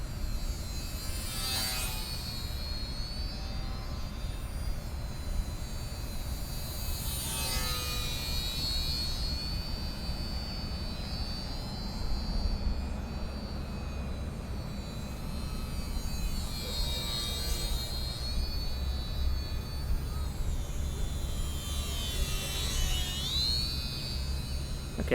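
A small RC model airplane makes repeated low buzzing passes near the camera, its electric motor whine rising and falling in pitch with each flyby over a constant background hum.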